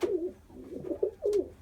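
A red grizzle pigeon hen and other pigeons in a breeding pen give a few soft, close, throaty coos in quick succession, brief and alone.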